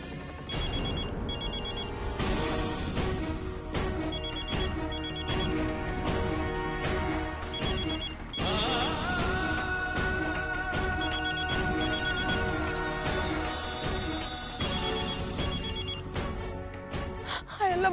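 A telephone rings repeatedly and goes unanswered, bursts of electronic ringing in a steady pattern, fairly quiet under a dense backdrop of dramatic music in a TV serial scene.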